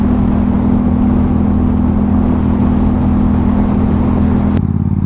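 Motorcycle engine droning loud and close with a steady whirring hum, held at a constant pitch before cutting off abruptly near the end.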